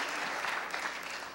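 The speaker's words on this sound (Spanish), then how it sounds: "Un aplauso más fuerte, más fuerte, más fuerte para tus hermanitos." A church congregation claps for a dance ministry, a brief, dense, steady burst of applause heard on its own without talk.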